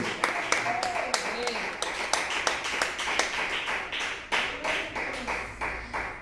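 A church congregation claps along in a steady, loud rhythm, sharp hand claps repeating roughly every half second and ringing through the room, with voices and murmuring underneath.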